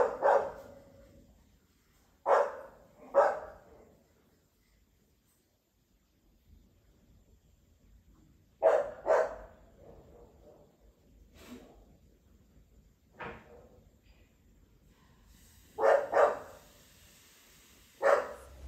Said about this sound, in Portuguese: Cachorro latindo de noite, será que tá vendo alguém?